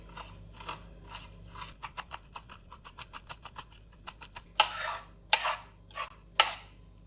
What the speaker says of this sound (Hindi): और यहाँ पे बारीक बारीक काट लेंगे।